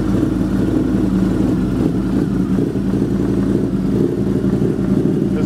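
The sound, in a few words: Harley-Davidson V-Rod motorcycle engine running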